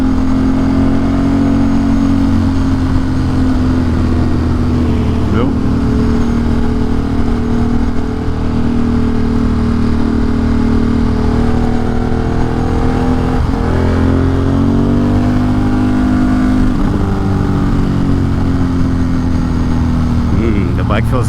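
Steady engine drone of motorcycles riding along a road, a continuous mid-pitched rumble with wind noise throughout and no talking.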